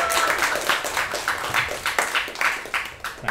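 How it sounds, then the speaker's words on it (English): A small group applauds at a podcast recording, a few seconds of brisk uneven clapping, fairly close with no talking. "A round of applause for that."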